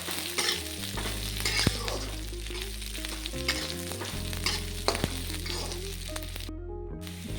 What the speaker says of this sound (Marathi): आता यामध्ये मी कट करून घेतलेली हिरवी मिरची टाकते. छान अशी परतून घ्यायची. शेंगदाणे टाकायचे, ते छान असे परतून घ्यायचे.